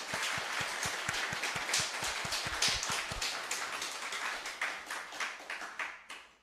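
An audience at a special lecture gives a round of dense, steady applause that fades out toward the end.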